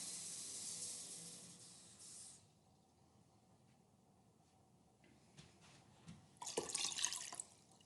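Water poured in a thin stream into a measuring container, a steady hiss at close range that stops, goes quiet with small knocks, then returns louder near the end, with no talk.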